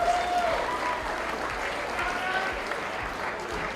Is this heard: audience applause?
yes